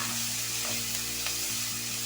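Garlic with green and dried red chilies sautéing in a pan, a steady hissing sizzle close by with a couple of faint stir scrapes, no speech.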